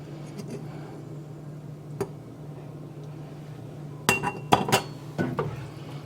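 Glass canning jars clink while being filled with taco filling, a single sharp tap early, then a cluster of bright clinks and knocks near the end over a low steady hum.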